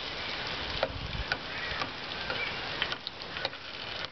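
Rendered animal fat melting over low heat for tallow candles gives a steady, quiet sizzle with scattered small ticks and pops and no talking.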